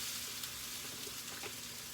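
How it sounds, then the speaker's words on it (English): Peppers sizzle in a hot frying pan with a steady, close hiss of frying and faint crackles, no talking. "Let me go put these peppers in this frying pan."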